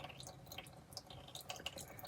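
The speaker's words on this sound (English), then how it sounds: "So now it's dripping" Differential fluid drips from a Honda CR-V during a fluid change, making faint, irregular little taps over a low background hum.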